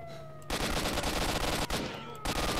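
Shotgun fire in S.T.A.L.K.E.R.: Shadow of Chernobyl, loud booming blasts with a short quiet gap and a second burst, sharp onsets and ringing tails, heard up close without talk.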